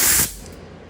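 A short, loud burst of compressed air hisses from a hose hooked to a DIY piston ring grinder, cutting off sharply after a fraction of a second and leaving a faint residual hiss.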